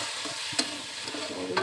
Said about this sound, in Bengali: এখন আমি দিয়ে দিচ্ছি বেটে রাখা পেঁয়াজ আদা রসুন